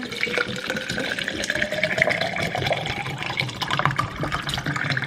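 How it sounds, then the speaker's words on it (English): Water pours steadily into a drink container holding cut lime slices, a continuous close splashing fill running for about five seconds with no talk. "I'm gonna just put it in here, boom boom, and then just add my water."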